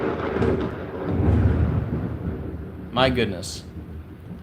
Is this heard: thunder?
yes